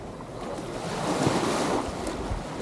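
Ocean waves and surf at Waikiki, a broad continuous wash of surf mixed with wind buffeting the microphone, swelling slightly in the middle.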